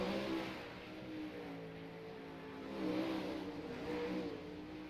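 A 360 sprint car races down the back straight at a dirt track, its engine a distant, fairly faint steady roar that swells slightly midway.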